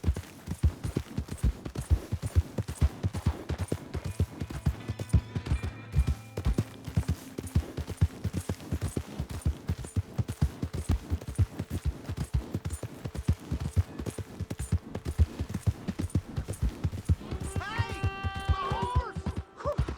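Horse hooves clip-clop steadily in Red Dead Redemption 2, a regular close rhythm of hoofbeats running through the whole stretch under game music and ambience, with spoken voices appearing near the end.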